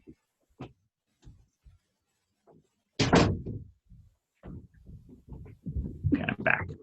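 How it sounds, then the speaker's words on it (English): A room door is pushed shut with a solid thunk and a latch click, preceded by faint shuffling and handling sounds, then soft movement noises afterward in a quiet indoor space. "I'm just going to close my door."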